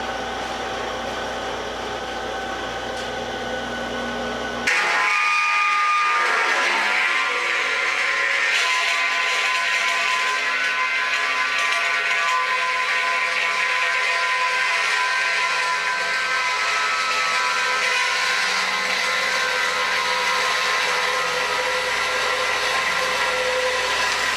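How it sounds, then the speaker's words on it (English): Scrap aluminum being cut with a power tool: a loud, steady high-pitched grinding whine starts abruptly a few seconds in and runs continuously, following a brief quieter lead-in, with no talking. "I think I'll start cutting up this aluminum"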